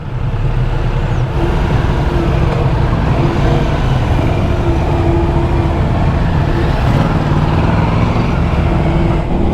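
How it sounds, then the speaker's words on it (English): A Ducati Multistrada V4S motorcycle riding on a mountain road, heard as a loud, steady engine drone mixed with wind and road rush that continues without a break. "that's the new Multistrada V4S that sir is riding"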